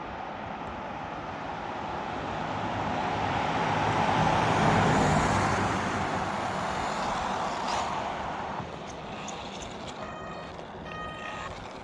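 A car passes along a road during an RC buggy speed run. A broad rush of tyre and road noise swells to a peak about halfway through and then fades, heard over steady wind and motor noise.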